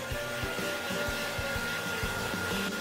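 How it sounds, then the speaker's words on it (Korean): A hair dryer blows steadily while drying a dog indoors, a continuous broadband whoosh with a constant motor hum throughout, close and loud, with rhythmic low thumps underneath. "드라이기 말리자."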